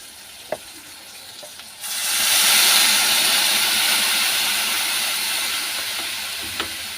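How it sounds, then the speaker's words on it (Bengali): Water poured into a pan of fried food bursts into a loud, steady sizzle and hiss about two seconds in, staying strong and gradually easing, with a few faint clinks before it. "এর মধ্যে আবার একটু জল দিয়ে দেবো"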